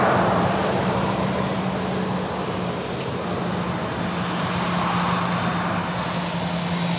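KLM airliner at Manchester Airport, a steady roar of its engines holding for the whole stretch, with a faint rising whine riding on top and a low constant hum beneath.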